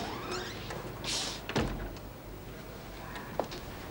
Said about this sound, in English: Miss Ferguson, would you mind closing the door?